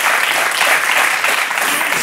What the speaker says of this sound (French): Vous pouvez applaudir, c'est bien.